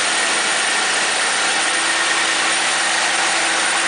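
A Bolens G174 snow thrower engine runs steadily and loudly up close, a constant dense mechanical roar with no breaks.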